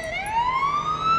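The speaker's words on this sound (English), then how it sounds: "Ambulance on scene." An ambulance siren arriving on scene in the Police Simulator video game, a loud rising wail that sweeps upward and holds, close and alone without talk.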